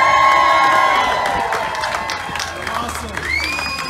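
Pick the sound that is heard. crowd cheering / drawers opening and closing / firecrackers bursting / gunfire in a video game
crowd cheering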